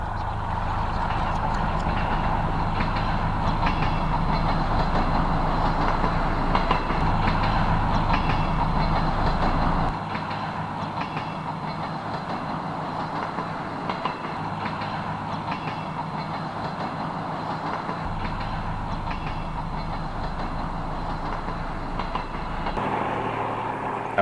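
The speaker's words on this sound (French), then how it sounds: "l'autorail file à 80 km/h sur la voie unique en direction de Moret" An SNCF X3800 "Picasso" diesel railcar runs at 80 km/h on single track, its engine drone and wheel rumble steady and loud throughout, with rhythmic rail clatter and a brief shift in tone near the end.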